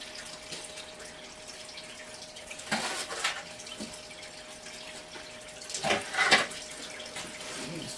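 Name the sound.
gold panning with a banjo pan in water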